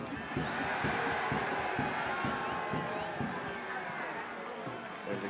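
Soccer crowd of Hartford Athletic home fans and traveling New York Red Bulls supporters at a U.S. Open Cup match, a dense, steady roar of voices and cheering filling the stadium without pause.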